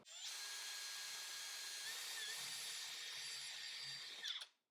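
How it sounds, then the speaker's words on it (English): A power drill whines steadily at high speed for about four seconds while drilling pilot holes for a bath and shower surround, then spins down and stops, close to the microphone with no talking. "Now I'll just drill my pilot holes."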